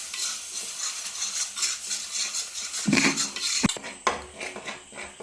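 Tomato, ginger and onion paste sautéing in oil in a pan for a fish curry, with steady sizzling, a spoon stirring and scraping, and a few sharp utensil clinks near the end.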